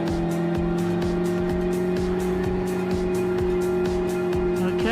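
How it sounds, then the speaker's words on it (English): A loud motorcycle exhaust on a racetrack leaving pit lane, a steady droning engine note with a pulsing, rapid firing rhythm, close and continuous throughout. "That is a very loud exhaust"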